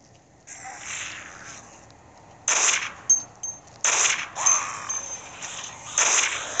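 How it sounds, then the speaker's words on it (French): Pistol shots in the zombie shooter game Dead Effect: several sharp bursts, each with a bright metallic crack, spaced a second or so apart over a steady low background hum. "même l'effet du pistolet, je sais pas si vous avez vu quand vous tirez"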